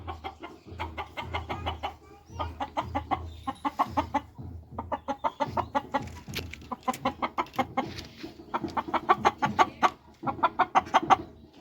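Kadaknath chickens cluck in rapid repeated bursts, several birds close together calling continuously at a steady moderate volume, with a rooster calling.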